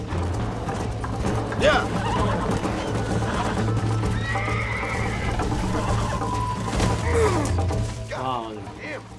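Horse galloping with rhythmic hoofbeats and several loud neighs and whinnies in the Red Dead Redemption video game, under a steady low music drone, with a brief spoken word and voices in the mix.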